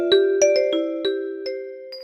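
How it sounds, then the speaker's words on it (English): A vibraphone ringtone plays six or seven mellow, sustained mallet tones in an unhurried melody, each note ringing on smoothly, close and clean without speech. "Vibraphone."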